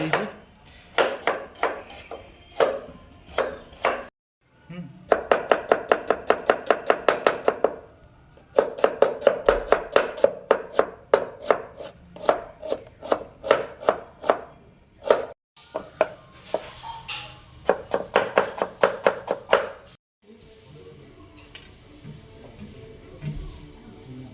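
Onions chopped on a board while cooking biryani, rapid steady knife strikes in bursts separated by short pauses, close and crisp with no talking.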